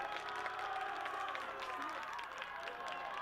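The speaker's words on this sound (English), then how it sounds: "The crowd is loving that call." Crowd cheering and clapping at a high-school flag football game after a quarterback sack, a steady, dense roar from the stands that holds without breaks.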